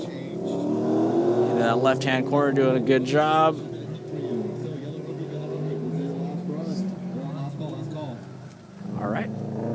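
A 2013 Subaru BRZ in the prep class accelerates through an autocross course, its engine rising and falling in pitch as it revs through the corners, heard under a commentator's steady talk.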